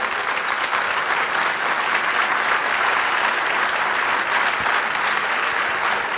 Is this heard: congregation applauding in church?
yes